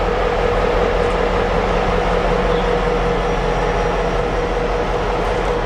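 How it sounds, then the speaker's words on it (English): Train passing along a Pennsylvania route, a steady loud rolling rumble with a hissing wash of wheel and rail noise that holds evenly throughout, with no voices. "over there's our train again."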